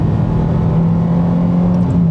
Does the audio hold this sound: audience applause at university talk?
no